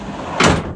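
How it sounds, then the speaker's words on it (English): The partition door of a delivery van slides shut, a single loud thud and rattle landing midway through a short stretch of quiet room tone. "Another artifact of the delivery van is that it has this partition door."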